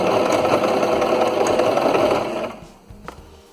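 A sewing machine runs loud and close for about two and a half seconds, stitching fabric along a curved seam for a protective face mask, then halts, followed by a few faint clicks and handling noises.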